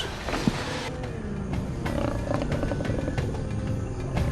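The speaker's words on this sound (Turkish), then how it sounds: "Aslan. Bütün Afrika'nın en muhteşem yırtıcı hayvanı." An African lion roars, a deep rumbling call that rises in the first second and carries on through the rest, heard alone without any talk.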